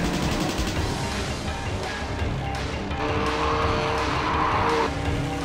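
Pure stock four-cylinder race cars speed into the turns of an oval. Their engines make a loud, continuous roar that builds and sweeps past, with a higher whine rising near the end. No voices are heard.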